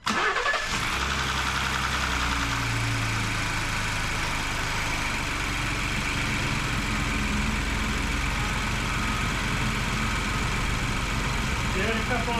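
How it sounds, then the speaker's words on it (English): A Ford Bronco fitted with a Mishimoto cold air intake cranks over and catches, then settles into a steady, close idle that runs loud and continuous throughout, with people talking over it. "I'll go ahead and start it up"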